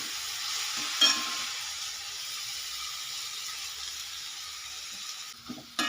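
Garlic and tomato sauté in a pan for goat trotter paya, giving a steady close sizzle with a couple of brief stirring knocks and no voices.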